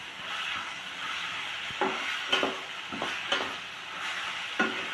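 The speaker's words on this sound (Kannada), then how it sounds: "ಇದನ್ನೆಲ್ಲ ನಾವು ಎಣ್ಣೆಯಲ್ಲಿ ಚೆನ್ನಾಗಿ ಫ್ರೈ ಮಾಡ್ಕೊತಾ ಇದ್ದೀವಿ" Vegetables and peas for masala Maggi frying in oil in a pan, a steady close sizzle with several soft scrapes and clinks of stirring at uneven intervals.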